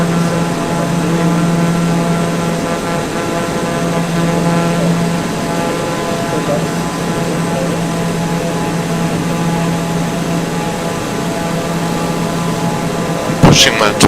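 Turboprop airliner engine and propeller in Microsoft Flight Simulator 2020 on a flight from Dublin to Frankfurt, a loud steady drone with a constant low hum holding for the whole stretch, closing with a brief click.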